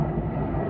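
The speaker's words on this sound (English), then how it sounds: "another plane's going by here" A steady low drone of an airplane engine passing, a brief continuous rumble without other sounds.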